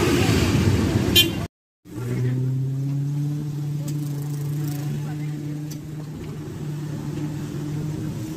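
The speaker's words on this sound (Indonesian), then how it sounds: "Ini terlihat ini banyak mobil." Cars rolling through a Sundanese wedding procession in a village in Sumedang, with steady engine drone and long sustained horn tones after a brief cutout, and speech mixed in.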